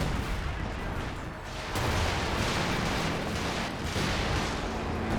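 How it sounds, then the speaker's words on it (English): Artillery barrage in Company of Heroes 2, a dense, continuous rumble of distant shelling and gunfire, with loud bursts that swell and fall across the whole stretch and no voices over it. "First barrage running on in."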